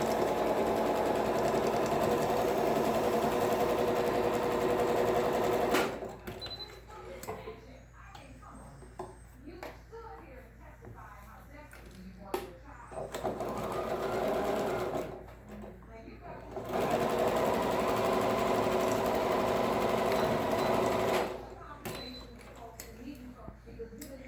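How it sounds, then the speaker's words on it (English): A sewing machine stitches a quarter-inch seam across the short sides of a fabric mask with a pocket. The steady whirring comes in several long runs separated by pauses, with a person talking in between. "we're going to do a 1/4 inch seam across each of the short sides."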